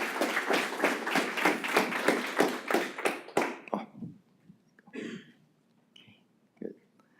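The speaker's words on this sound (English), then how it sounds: "Please give a round of applause for Newton Lee." Audience applause greeting speaker Newton Lee at a university talk on Christian transhumanism, steady dense clapping for about four seconds that fades out, followed by a few faint scattered claps and room noise.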